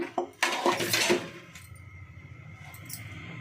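A metal kadai is set on a kitchen stove before oil goes in for tempering a ridge gourd and moong dal curry. A few close, sharp metallic clanks and scrapes come early, then a low, quiet room hum.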